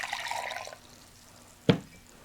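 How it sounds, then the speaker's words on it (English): Hot water is poured into a container for making gelatin gummies: a brief splashing pour at the start, then quiet, then a single sharp drip or clink. "we'll pour the hot water in"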